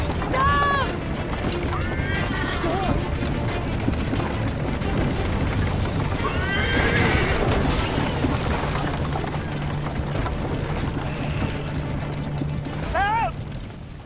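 Several sharp horse whinnies ring out over a constant roaring, crashing din of a burning warehouse, with shouting voices mixed in, in the video game Assassin's Creed Liberation Remastered.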